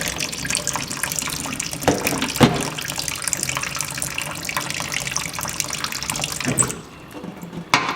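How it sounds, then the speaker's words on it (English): Water gushes steadily from a mixer tap, a loud continuous splashing stream that drops off sharply near the end to a quieter trickle. "You probably will get a little bit more water come out when you do that"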